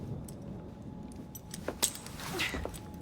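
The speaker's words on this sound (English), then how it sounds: "Now hand over your keys." Keys jangling in Assassin's Creed Syndicate, a close metallic rattle of several bright clinks clustered in the second half over low game ambience, with no talking.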